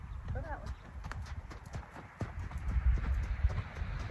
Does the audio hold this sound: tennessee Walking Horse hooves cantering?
yes